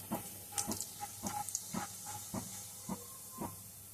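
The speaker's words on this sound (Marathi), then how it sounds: "आपण त्यात आता जिरं टाकून घेऊया छान थोडं तळतळू देऊया" Cumin seeds sizzling in hot oil in a pan while cooking, a soft steady hiss with faint crackles and pops scattered through it.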